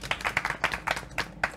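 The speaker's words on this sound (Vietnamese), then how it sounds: "Vỗ tay." At a Vietnamese wedding ceremony, a small group of guests claps briefly. The claps are close, crisp and uneven, about a dozen of them in a short burst.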